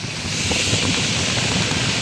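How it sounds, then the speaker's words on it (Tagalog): Strong typhoon wind at Manila Bay buffets a phone microphone in a steady, roaring rush, with a broad hiss that never lets up across the whole stretch. "Rinig nyo siguro sa hampas ng hangin, ano, sa aking cellphone. Ang lakas ng hangin dito."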